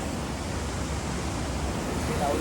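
Heavy rain pours down beside a swollen river at a traditional fishing spot, a dense, steady broadband roar of falling water and rushing flow, loud and unbroken with no distinct drops standing out.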